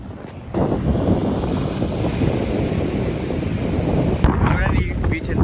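Strong wind buffets the microphone on a beach in Pondicherry, with steady surf and waves rushing underneath in a continuous, loud roar.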